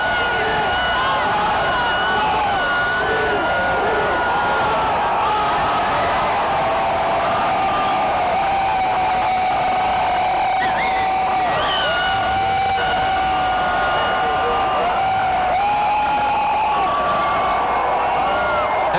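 Large crowd cheering and whooping on the Las Vegas Strip at midnight on New Year 2000, a dense sustained roar of many voices with shouts rising above it, loud and continuous throughout.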